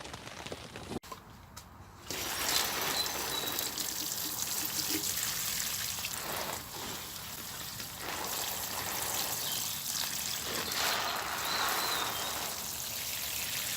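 Freshly transplanted chilli plants in pots are being watered, a continuous hiss of water showering onto soil and leaves that starts after a brief pause and runs steadily close by.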